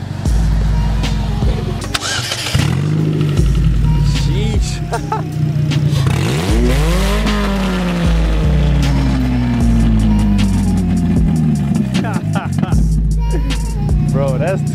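Very loud car exhaust at a garage meet as the engine starts and revs, deep booming rumble swelling in repeated rising and falling revs, close and continuous, with people talking over it.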